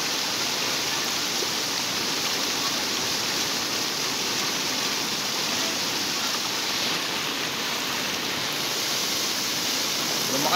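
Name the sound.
heavy rain during storm Carina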